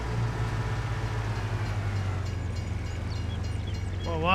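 A train in a farming video game rolling past, a steady low rumble and hum with faint rail clatter, continuous and fairly loud, no talk.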